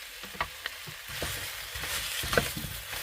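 Clams and other seafood stir-fried in a pan with frozen ground beef, a soft continuous sizzle broken by scattered scraping and tapping as the spatula moves through the mix.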